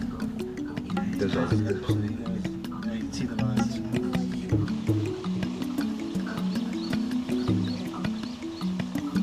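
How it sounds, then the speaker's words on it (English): A lion feeds on a giraffe carcass in the wild, with low growls and wet tearing sounds running steadily beneath continuous narration. "There's a lion eating a giraffe."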